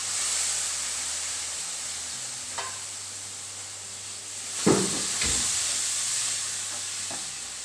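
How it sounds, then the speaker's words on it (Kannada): Tomato puree frying in a pan for a potato and chickpea curry, a steady hiss and sizzle with a few louder clatters of stirring partway through. "ಟೊಮೆಟೊದ ಸ್ಮೆಲ್ ಪೋಯಿನಾತು ಫ್ರೈ ಮಾಡ್ತದ"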